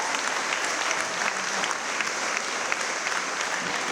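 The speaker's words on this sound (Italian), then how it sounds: "vorrei che facessimo un po' a tutti un grandissimo applauso anche a questi due genitori" An Italian award ceremony audience breaks into loud, sustained applause, a dense wash of many hands clapping evenly, filling the hall without a break.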